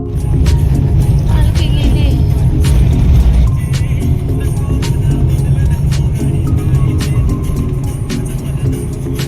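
A car running on petrol rumbles steadily up close as it drives along, with occasional light rattles and clicks over the low hum.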